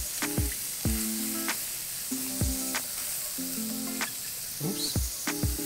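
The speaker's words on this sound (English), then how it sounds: "We're going to add that soy sauce there too." Soy sauce hitting shrimp and lobster fried rice in a hot pan: repeated loud sizzling bursts and spatters about once a second, close up, with scraping stirs between them and no talking.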